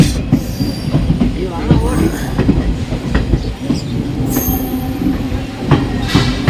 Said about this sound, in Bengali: চার মিনিট লেটে আমাদের ট্রেন প্রয়াগরাজ স্টেশনে ঢুকেছে